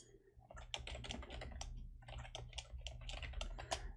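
Typing on a computer keyboard while building a website homepage: a steady, close run of quick key clicks alone, with brief pauses between bursts and a low constant hum underneath.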